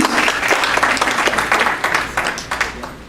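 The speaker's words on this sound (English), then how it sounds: "Clapping please." Audience clapping at a hospital fundraising event, a burst of many hands with distinct claps audible in the texture, fairly close and tapering slightly toward the end.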